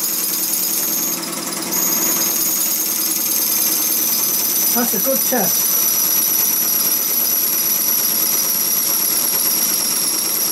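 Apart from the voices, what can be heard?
live steam gauge 1 model locomotive engine running on steam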